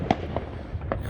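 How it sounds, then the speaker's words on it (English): Fireworks go off across a neighborhood at night on the 4th of July, with a few distant pops and crackles spaced through a steady rumbling background, no voices. "Fireworks going off all over the place right here."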